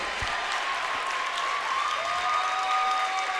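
McBain fans at a varsity boys basketball regional final against Beal City cheering and clapping in a sustained, full roar, with high-pitched whistles and shouts sliding over the continuous crowd noise.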